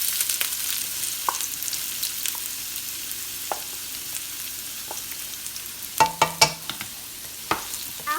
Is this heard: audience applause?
no